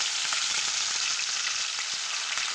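Chopped green chillies fry in a pan with a steady, dense sizzle and crackle that holds evenly throughout, with faint stirring taps underneath and no voices.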